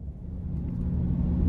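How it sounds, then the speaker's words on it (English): A GMC Savana 2500 Explorer conversion van rolls off on a test drive, its engine and road noise a steady low rumble that slowly swells, with no talking. "take this 2500 Explorer conversion van out on the road for a test drive"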